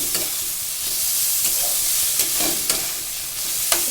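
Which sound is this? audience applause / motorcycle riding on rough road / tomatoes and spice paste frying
tomatoes and spice paste frying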